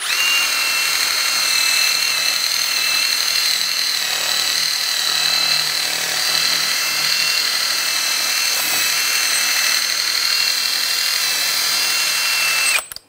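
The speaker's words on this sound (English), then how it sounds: "Using a wire brush, I'm going to clean up the hub surface." A wire brush scours the hub surface of a 2001–2006 BMW 325Xi during a front brake job, giving a continuous, loud, high-pitched whirring scrub that holds steady for about thirteen seconds, then stops abruptly.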